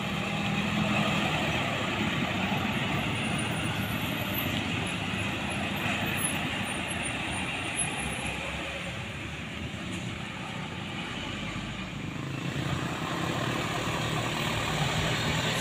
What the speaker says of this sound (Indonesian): di belakangnya ada truk muatan semen